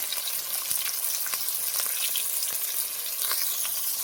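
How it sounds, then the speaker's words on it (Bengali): Potato pieces with salt and turmeric powder frying in hot oil, giving a loud, steady close-up sizzle with scattered sharp crackles and pops throughout, no voices. "লাল লাল করে আলুটাকে ভেজে নেব"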